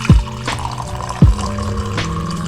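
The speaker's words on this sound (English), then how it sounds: "So the next thing I did was I drank a glass of water." A glass of water being poured during a morning routine, with two brief splashy drops near the start and midway over a steady tonal background.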